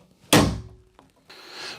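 A Masonite Cheyenne interior door is tapped into place in its frame: one solid close thunk, followed by a faint knock and a soft scraping rustle.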